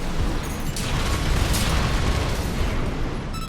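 A mech's shoulder-mounted bazooka fires in the video game Armored Core VI, making a loud, dense, continuous roaring blast with no voices over it.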